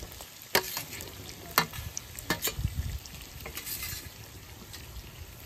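Koi fish lightly frying in a pan, a faint sizzle with a few sharp scrapes and clacks of a utensil, quiet overall and with no talk.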